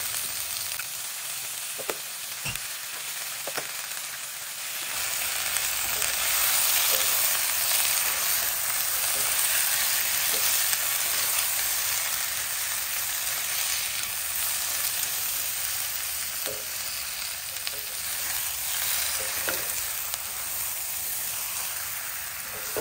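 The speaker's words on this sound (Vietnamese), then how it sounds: "Mình trộn đều như vậy nè, cho cái trứng nó áo vào cái" Green beans with beaten eggs sizzle and hiss steadily in a pan for a long stretch, with occasional soft stirring clicks and scrapes, close and fairly loud, with no talking.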